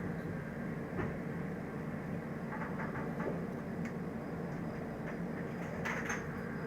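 A Humsafar Express train running on rails on a slow stop-start run, a dense steady rumble with faint rhythmic clicks and rattles from inside the coach, with no talk.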